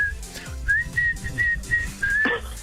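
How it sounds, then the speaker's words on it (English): A person whistles a jaunty tune in short repeated phrases, ending with a quick trill, loud and close with some low background murmur. "More whistling tomorrow, everybody."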